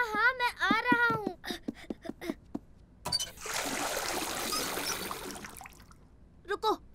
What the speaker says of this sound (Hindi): हमें इसे पानी से धोना होगा, चलो जल्दी।